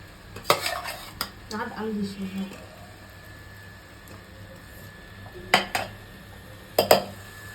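A spoon clanks and scrapes in a pan as cashew paste and fried potatoes are mixed into curry gravy for green banana kofta curry, with a few sharp, spaced metallic hits over a quiet background.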